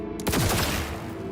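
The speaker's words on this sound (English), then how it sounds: "You assholes start opening fire on me." Enemies open fire in the video game Cyberpunk 2077, a quick volley of close, sharp gunshots with descending ricochet-like tails, fairly loud and with no talking over it.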